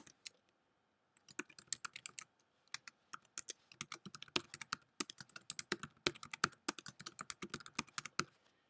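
Steady bursts of typing on a computer keyboard as a quiz question is entered, close and fairly quiet, with rapid clustered keystrokes and no talking.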